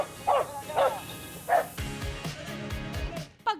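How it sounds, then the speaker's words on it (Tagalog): Aspin dog at a harbour barking repeatedly as a ship approaches: several sharp, close yips and barks in quick succession over a low rumbling background, with a brief high whine at the end. "si Kilay, tahol ulit ng tahol"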